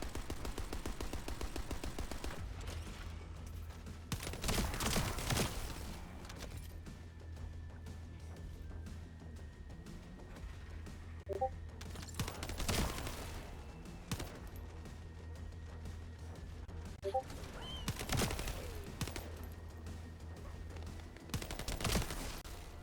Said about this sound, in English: the recoil on this assault rifle is horrid